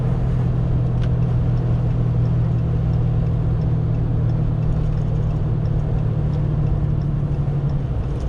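A Cummins diesel pickup towing a heavy load, slowing under braking, gives a steady, loud low engine drone and road rumble that holds throughout with no voices.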